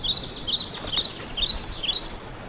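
A small cartoon bird chirps in a rapid string of high, bright tweets, steady and close throughout with no talking.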